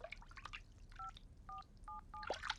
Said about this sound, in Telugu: ప్రియా, వేరే నెంబర్ ఫోన్ చేయి.